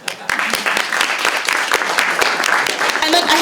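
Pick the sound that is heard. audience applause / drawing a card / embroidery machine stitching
audience applause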